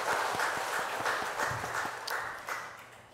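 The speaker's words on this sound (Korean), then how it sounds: "영광의 박수 올려드리겠습니다" A church congregation gives a round of applause during a Sunday service, a dense, close patter of many hands clapping steadily before tapering off near the end.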